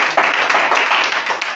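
A church congregation clapping together in a quick, steady rhythm, dense and close, filling the space with continuous applause-like claps.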